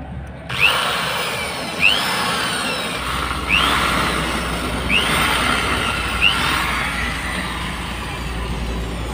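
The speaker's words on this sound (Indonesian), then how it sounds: "Agak repot sebenarnya kalau pakai bor ini, tapi ya sudahlah." An electric drill whines steadily, with several sharp revving bursts spaced a second or so apart, close and fairly loud.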